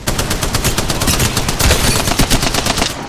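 Rapid automatic gunfire from Apex Legends, a loud, close stream of evenly spaced shots rattling continuously for a few seconds with no talking.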